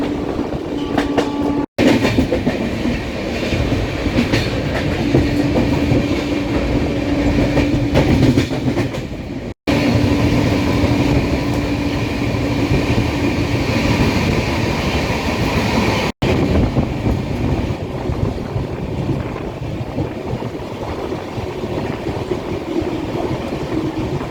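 A Shalimar to Puri express train runs fast through the night, its loud continuous rumble and rattling wheels carrying on steadily, broken by a few sharp momentary dropouts.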